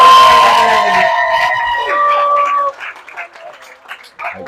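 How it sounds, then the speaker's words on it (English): An audience applauds and cheers loudly as a comedian takes the stage, the clapping swelling under an announcer's voice and then thinning out into scattered claps. "Give it a big warm round of applause for the one, the only Explozo!"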